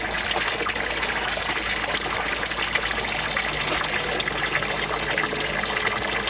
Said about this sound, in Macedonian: овој извор непресечно тече повеќе од 1000 години